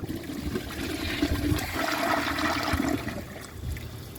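A 1994 Kohler Wellworth Lite toilet flushes with a washcloth in the bowl, a close, loud rush of swirling water that runs steadily for about three seconds, then tapers into a gurgling trickle as the bowl refills.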